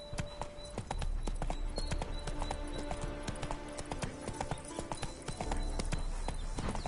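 Horse hooves clip-clopping in The Witcher III: Hearts of Stone, a steady rhythmic trot of sharp hoof strikes on hard ground with game ambience and faint background music beneath.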